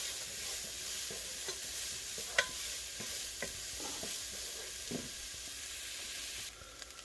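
Chopped onions sweat gently in a pan over medium heat, a steady soft sizzle running throughout with a few faint stirring scrapes and clicks near the mic.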